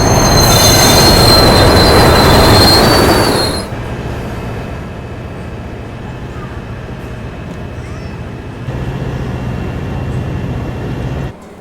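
A train running on railway tracks with a loud high-pitched wheel squeal and rumble for the first few seconds, then dropping to a steadier, quieter rolling drone with a slight swell near the end.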